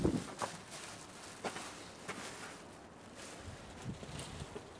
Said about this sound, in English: Sky's coming a bit there, the wind's picking up.